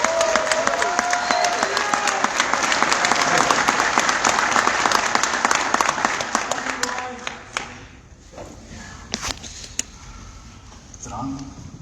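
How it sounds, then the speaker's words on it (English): An audience at a crypto token event gives a round of applause, with loud, steady clapping that fades to scattered claps and faint talk near the end. "So I would really appreciate you giving them a round of applause."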